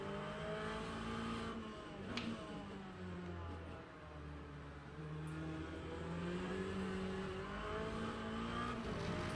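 A race car engine in the Le Mans Ultimate racing sim drones steadily with rising and falling revs through corners, continuous and fairly quiet, with no talking.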